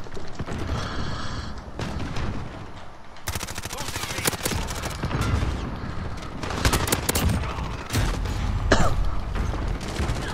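Video game weapons hip-fired in bursts, with bursts of automatic fire, clattering mechanical sounds and occasional booms layered over busy game ambience, shots varying in loudness as the action continues.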